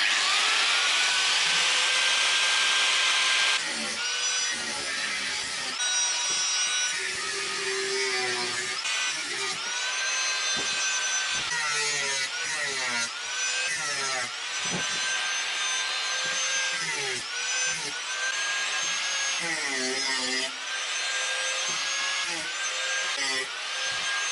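A power tool cuts through the license plate bracket of a Brixton Felsberg 125 motorcycle, a loud continuous grinding whine that rises and falls in pitch as the blade bites, with brief pauses, close and steady.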